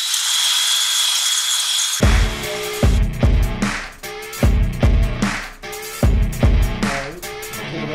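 An LT1 engine block's scored cylinder bores are honed with a cylinder hone, giving rhythmic rasping strokes roughly once per second, loud and close, each a gritty grinding sweep, starting after a steady hum.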